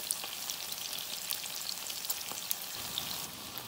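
Longganisa sausage frying in oil in a pan, a steady close sizzle with scattered crackling pops, no talk.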